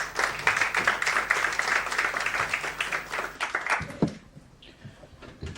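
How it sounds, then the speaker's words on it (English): A seated audience at the launch of a self-defense training program claps steadily for a speaker's welcome address, moderately loud with distinct individual claps, then fades after about four seconds into quiet room tone. "Just please welcome the round of applause."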